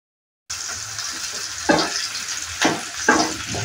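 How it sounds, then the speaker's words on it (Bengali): Chopped onion and capsicum frying in a home kitchen pan for a kathal chilli dish, a steady close sizzle with a few louder bursts as the vegetables are stirred, no talking. "ক্যাপসিকাম আর পেঁয়াজটাকে ভালো করে ভেজে নেব।"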